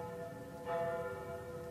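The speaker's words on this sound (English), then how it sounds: "Bells are ringing from every church in the city." A single church bell strike in London rings out and hums with a long sustained tone, heard at a distance over a steady background.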